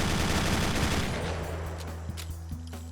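W877 machine gun in Fallout 4 firing a dense continuous burst, loud and close, tapering into a rumbling tail with a few trailing clicks.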